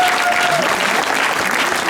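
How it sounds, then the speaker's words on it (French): An outdoor theatre-walk audience claps steadily and loudly in continuous, even applause for the actors, with a brief voice heard at the start. "On applaudit bien fort Emma."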